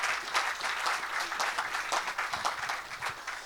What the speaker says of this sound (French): Est-ce qu'on peut acclamer pour la grâce?